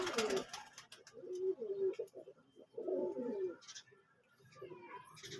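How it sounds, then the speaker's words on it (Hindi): Close pigeons give repeated soft throaty coos in short rounded phrases, with pauses between calls and a little light chirping and rustling around them. "आपको मैं और नजदीक से दिखाता हूँ इस कबूतर को।"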